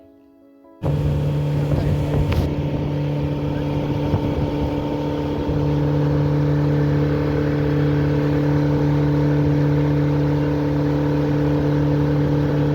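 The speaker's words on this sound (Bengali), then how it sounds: "এরকম স্পিড বোটে করে এই গভীর লেকের ওপর দিয়ে আমরা চলেছি" Speedboat engine droning steadily on a deep lake among hills, a loud constant hum with a low tonal whine after a brief quiet start, close and continuous throughout.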